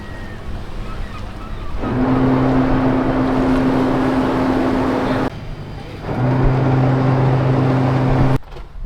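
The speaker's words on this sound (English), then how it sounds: "Once the bow thrusters pushed us off, we were officially underway" Ship's bow thrusters pushing a ferry away from the quay at Gdańsk, a loud steady droning hum over water wash that runs in two long bursts separated by a short lull.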